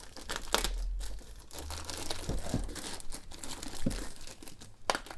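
Cardboard and plastic packaging of a Hot Toys vintage Kenner color Boba Fett figure crinkles and tears as it is cut open, close and moderately loud, with irregular crunching bursts throughout.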